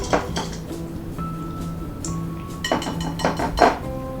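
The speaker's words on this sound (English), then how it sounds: "I'm gonna whisk this together again." A rose hip jam and harissa mixture whisked in a bowl, giving light metallic clinks and scrapes in short, irregular bursts, close up and fairly quiet.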